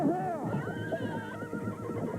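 A horse whinnies loudly in a long descending neigh, a charging-horse sound effect in a 1987 children's TV show, followed by softer snorting and faint hoof clatter.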